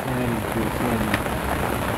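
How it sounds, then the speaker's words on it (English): Steady rain falls on Capri, a dense continuous hiss of drops on surfaces, close and even, with faint distant rumbling beneath and no talk. "It's really funny seeing it rain here"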